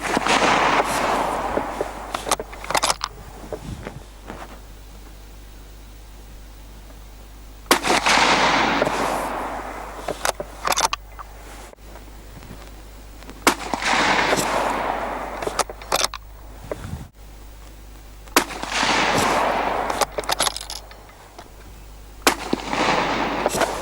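Shots from a Thompson Center Dimension rifle loaded with 55 grain ballistic tips, fired at cans and potatoes outdoors, come as several loud, sharp cracks with long decaying echoes, spaced several seconds apart across the stretch.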